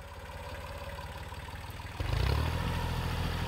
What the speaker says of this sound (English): I got Ethan on the tractor.